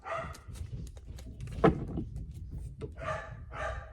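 Dogs barking and whimpering, a series of short yips and barks with whiny tones, moderately close, one sharper bark standing out midway, no talk.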